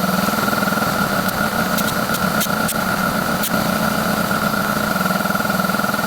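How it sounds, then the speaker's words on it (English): An air compressor runs continuously near a homemade boat being painted, a loud steady engine-like drone with a pulsing rhythm and a few brief metallic ticks over it, no talking. "Compressor's going."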